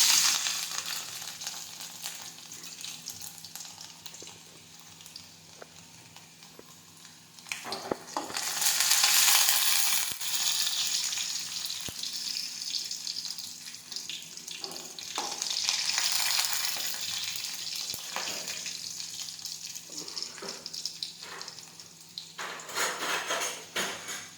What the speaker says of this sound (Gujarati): હવે આપણું તેલ છે તે ગરમ થઈ ગયું છે હવે આપણે તેમાં લસણ નાખી દઈશું